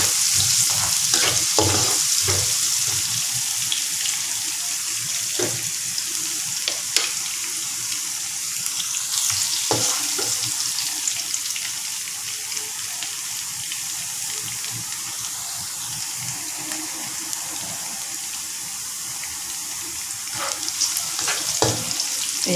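Chopped garlic frying in a pan for Mee Goreng fried yellow noodles, a continuous close hiss and sizzle with occasional clinks and scrapes of stirring.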